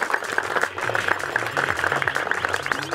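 Audience clapping at a flat feeder fishing competition awards ceremony at Krichevichi reservoir, steady moderate applause from a small crowd with a faint voice and low background hum.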